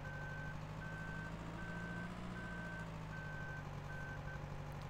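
A tractor backs up with a trailer in the Farming Simulator 2013 video game, its reversing alarm beeping in an even, repeating rhythm over a constant low engine drone.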